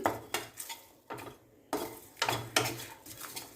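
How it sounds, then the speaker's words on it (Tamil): Garlic fried in a pan for idli podi, with chilies nearby, is stirred with a utensil: repeated scraping clinks against the pan in uneven bursts over a soft sizzle, close and clear, with no talking. "பூண்டு வதக்கிட்டு இருக்கேன்"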